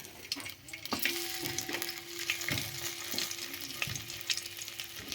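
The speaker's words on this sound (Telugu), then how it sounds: "వెల్లుల్లిపాయ వేసుకున్న తర్వాత వెల్లుల్లిపాయ బాగా వేగాలి" Steady ghee sizzle and crackle of garlic frying, with occasional utensil taps and stirring clinks close by, no talking.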